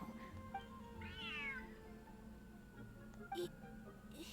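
A large cat in Genshin Impact gives one clear, rising-then-falling meow near the start, loud and close over a steady game music and ambience bed, with a soft extra chirp toward the end.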